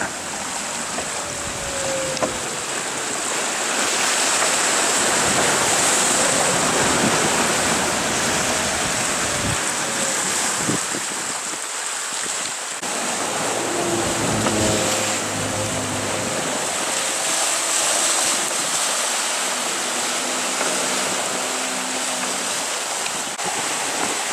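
Rough, continuous wash of open Atlantic sea water and wind under a racing sailboat, loud and steady, with surging waves and hull slaps throughout.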